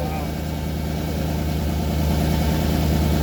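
A turbo LS engine swapped into an IS300, running a Holley Terminator X with a big turbo kit and a quiet flapped muffler, idles at first start with a steady low rumble, loud and close, with a voice over it.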